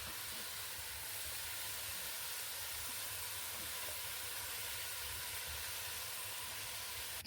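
Chicken pieces fry in a pan for a restaurant-style creamy chicken curry, giving off a steady, dense sizzle and hiss that runs without a break throughout, with no talking.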